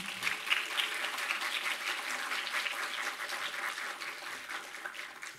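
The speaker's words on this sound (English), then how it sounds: "Can we get another round of applause for our truly spectacular filmmakers?" Film festival audience applauding the student filmmakers, a steady wash of many hands clapping at moderate distance, fading slightly toward the end with no talk over it.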